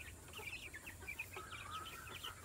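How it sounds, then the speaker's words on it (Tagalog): Free-range H&N laying hens cluck softly in a farm pen, a steady chatter of short calls and a longer drawn-out note over low background noise, fairly faint and with no voices. "So, ito po, ito yung mga manok ngayon."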